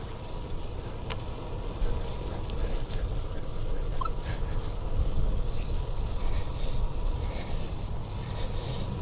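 Steady, low, broadband rumble of wind buffeting a microphone fitted with a furry windscreen while cycling a fixed-gear bike on a windy Arizona evening, continuous and unbroken throughout.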